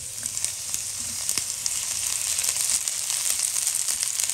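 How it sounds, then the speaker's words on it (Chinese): Scallions and garlic dropped into hot oil in a wok, giving a bright, continuous close sizzle and crackle that swells slightly as it goes on, with a few faint utensil taps. "油热以后加入葱蒜爆香"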